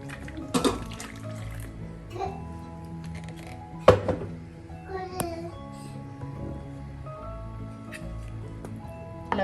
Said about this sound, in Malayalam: ജാറ് കഴുകിയ വെള്ളം കൂടെ ചേർക്കാം